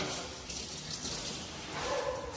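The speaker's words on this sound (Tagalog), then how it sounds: "Ito yung gripo natin." A weak trickle from a resort faucet with low water supply, a thin steady run of water over faint background noise, with no talking.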